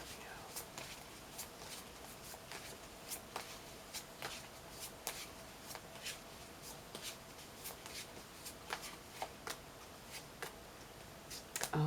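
Tarot cards are shuffled by hand, a quiet, repeated crisp riffling and flicking in short bursts at a steady pace, close up and soft, with no other sound competing.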